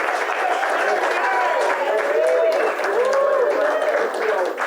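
Audience applause at the Venice Film Festival, a steady wash of clapping from a crowd with a voice speaking over it throughout.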